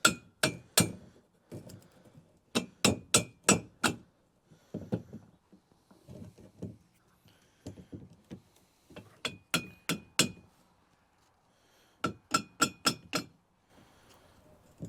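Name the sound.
hammering a washer behind a trailer wheel bearing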